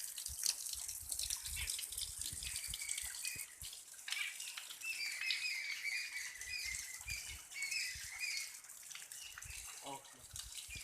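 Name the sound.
waterfall flowing at Dasharath Ghat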